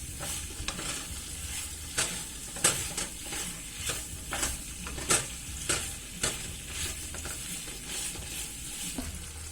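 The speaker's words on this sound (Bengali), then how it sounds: "মাংসটাকে ভালো মতন কষাতে হবে যাতে গ্রিন কারির যে র ফ্লেভারটা এটা যাতে চলে যায়।" Duck meat sizzles in a pan as it is sautéed for Thai green curry, with repeated spatula scrapes and stirs at an irregular pace over a continuous fry hiss, nearby and without speech.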